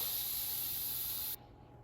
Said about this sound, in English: now let's release the remaining steam if it hasn't done it already.